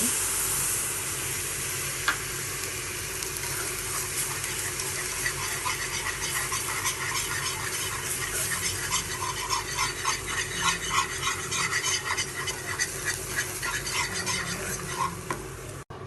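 A spoon steadily stirs white sauce of maida sautéed in ghee with milk added, a continuous scraping swish with a soft sizzle beneath, close and even throughout with no talking.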